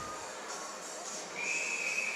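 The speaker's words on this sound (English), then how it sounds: "There's the whistle." A referee's whistle at a girls' ice hockey game: a thin, steady high tone sounds clearly above a hissing arena background and holds through the end, with no talk over it.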